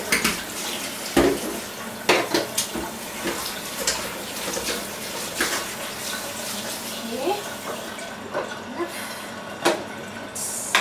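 Dishes get washed under a running tap in a home kitchen, with water splashing and rushing while pots and utensils clink and knock in sharp bursts, and a voice speaks briefly.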